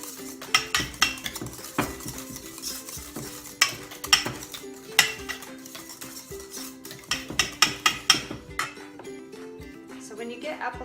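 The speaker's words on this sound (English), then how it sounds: "Whisk it together." Keto salad dressing with spices being whisked in a bowl: rapid metallic clinks and scrapes in irregular bursts, close and fairly loud, easing off near the end.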